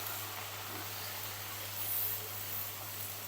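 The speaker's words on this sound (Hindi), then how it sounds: "2 मिनट के लिए मैं इसे फ्राई कर लेती हूँ।" Garlic ginger paste frying with onions in a pan gives a steady, soft broadband sizzle and hiss, continuous and even, with a low hum underneath.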